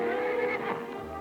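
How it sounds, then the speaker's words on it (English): Wild black stallion neighing in an old western film, a single loud, strained whinny with wavering pitch lasting about a second, heard close and alone. "What black horse is that? Wild stallion."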